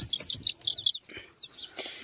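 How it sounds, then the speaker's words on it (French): A young black and white frizzle rooster chick gives a rapid series of high, thin peeps and chirps, close by and fairly quiet, with faint clucking underneath. "c'est le petit coq frisé noir et blanc aussi"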